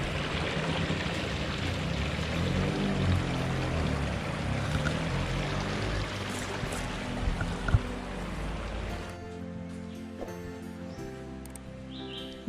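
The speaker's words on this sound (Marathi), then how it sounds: "हा पर्याला पाणी आहे" Steady broadband rush of water flowing in a small stream fed from a dam upstream, beside a village temple, continuous and fairly close for most of the stretch, then quieter toward the end.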